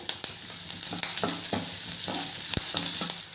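Finely chopped onion and coriander fry in a pan with a loud, close sizzle, broken by repeated scraping strokes of a stirring spoon, including a sharp knock near the end.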